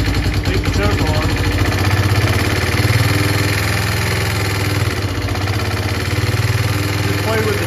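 A pit quad engine warms up with the choke on, idling loudly and steadily up close with a throbbing, uneven putter, with someone talking over it.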